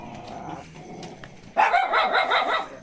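Dogs at a rural house bark loudly and close in a rapid burst that breaks out midway after a quieter stretch of background noise.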